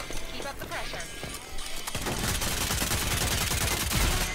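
Dense shooter video game gunfire, scattered shots at first and then a loud, continuous stream of rapid shots in the second half.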